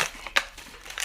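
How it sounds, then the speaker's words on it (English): An open plastic bag of 5.08 mm screw terminals crinkling as it is handled, a few sharp close crackles with quieter rustling between. "It's in a plastic bag, but the bag's open."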